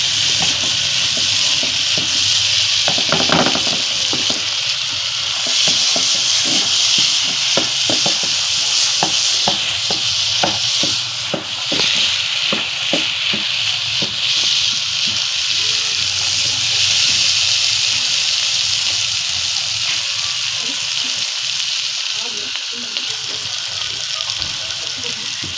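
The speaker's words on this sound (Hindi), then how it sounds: "अब हमने इसके अंदर पानी डाल दिया।" Chana dal frying in a pan with water poured in and stirred, giving a steady hiss and sizzle with scattered spoon scrapes and clinks throughout, loud and close.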